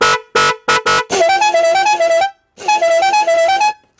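A Jaguar electric bike horn honks loudly: four quick separate blasts, then two long sustained wavering blares with a pause between, close and harsh.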